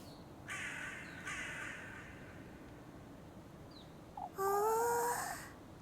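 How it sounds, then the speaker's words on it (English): Crows caw in the video game Little Goody Two Shoes, with several harsh, raspy calls spaced across a few seconds, the last one louder and closer with a wavering rise, over a quiet ambient background. "There's so many crows."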